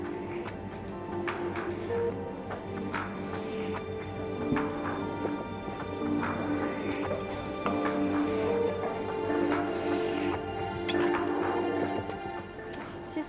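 Banana juice poured into a cocktail shaker packed with ice and a scoop of lime sorbet, with steady liquid trickling and dripping plus light clinks of ice over a continuous background hum.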